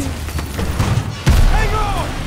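Gunfire in Call of Duty Vanguard on PS5 during the final mission, with dense booming shots and a heavy blast partway through, loud and continuous beneath voices and game sounds.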